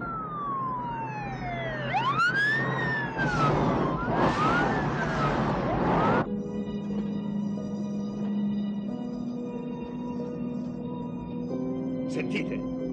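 A police car siren approaching in a 1988 horror film, rising and falling in loud wailing sweeps for about six seconds before giving way to steadier sustained tones.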